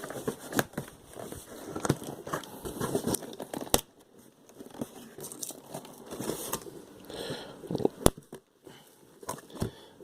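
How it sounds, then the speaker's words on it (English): A throwing knife slicing through packing tape on a cardboard shipping box, giving close, irregular cutting, scraping and crinkling noises with sharp snaps and tearing bursts. "I'm using a throwing knife because it's the closest thing to me, which means it's kind of horrible for opening things."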